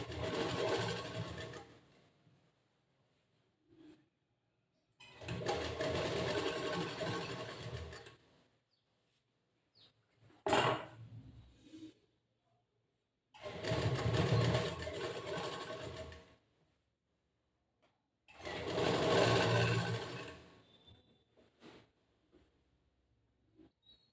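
Sewing machine stitching the boat neck of a blouse in four separate bursts of steady whirring, with quiet gaps and small handling clicks between runs.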